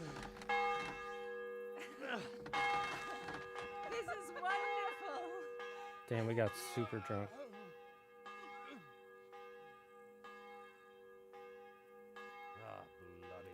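Church bell in the medieval game Kingdom Come tolling with rich sustained ringing tones that linger between strikes, while people talk and laugh over it.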